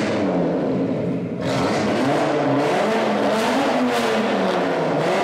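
Audi RS3 with its exhaust flap open revs loudly and close by, a dense roaring engine and exhaust blare that briefly eases then surges again, rough and harsh throughout without talk.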